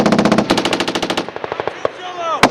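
A Marine Corps machine gun section fires at 29 Palms: a rapid, loud burst of evenly spaced shots that slows and thins out, then one final sharp crack after a brief pause, with shouting nearby.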